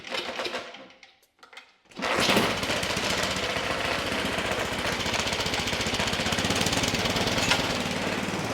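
A Craftsman, Troy-Bilt or Cub Cadet snow blower engine is pulled over and catches after a couple of sputters, then settles into a loud, steady low-speed chugging run close by.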